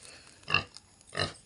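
Large pigs at evening feeding time on a small farm let out two short grunts about half a second apart, fairly faint and close.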